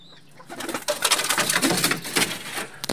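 Racing pigeons coo repeatedly at close range in a loft, low throaty calls overlapping with faint rustling and no talk.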